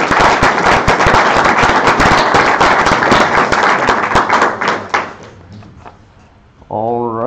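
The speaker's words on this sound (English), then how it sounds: "Let's give another round of applause." An audience claps loudly after a talk at a Python meetup. Dense applause runs for about five seconds, then thins and fades before a voice begins speaking.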